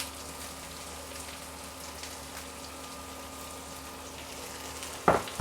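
Chilli and onion frying in a pan for a Bengali breakfast snack: a steady, even sizzle with a low background hum, ending in a brief louder clatter near the end.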